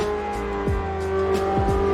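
A racing game car hums along with a steady engine drone, and brief tire squeals and engine whooshes dip in pitch as another car passes nearby.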